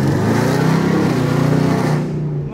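A Ford Mustang's engine revs hard under acceleration, a loud close roar with a rising throbbing tone that eases off near the end.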